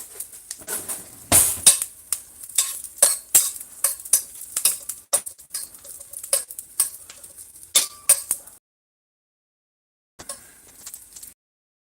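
A metal utensil scrapes and clanks against a steel Saladmaster titanium pan while stirring, with a rapid series of sharp metallic scrapes and taps, then a pause before a few more strokes.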